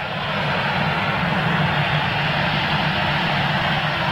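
An airliner departing Manchester Airport on its takeoff run, a loud, steady, broadband jet roar that holds constant and close for the whole stretch with a deep low rumble underneath, no voices over it.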